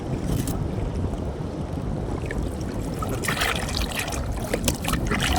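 Strong northeast monsoon wind roars on a coast, buffeting the microphone with a continuous loud rumble, while waves wash and break underneath, bursts of spray and surf rising near the end.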